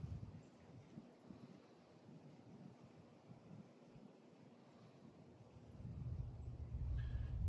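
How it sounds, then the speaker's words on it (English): Wind gusts across an outdoor spot where an ember is being coaxed to light, a steady low rumble that swells louder toward the end, with no talking. "And the wind helps too."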